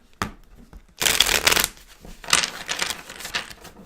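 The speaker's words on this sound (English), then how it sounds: "Pull a couple more tarots and see." Tarot cards being shuffled by hand: a short riffle, then two longer bursts of crisp, papery rustling and flicking, close and fairly loud, with no talking.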